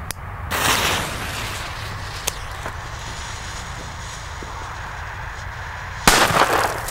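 Two sharp, loud bangs from Weco China-Böller firecrackers go off several seconds apart outdoors, each a crackling blast fading into a steady background hiss.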